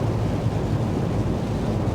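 Strong wind buffeting an empty truck cab at about 53 mph on a motorway, a loud, steady low roar and rumble that never lets up, with no voices.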